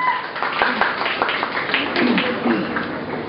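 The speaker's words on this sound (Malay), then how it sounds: "Satu tepukan untuk mereka" An audience at a Malaysian album launch event claps in a scattered burst, the individual hand claps distinct over a room of murmuring voices.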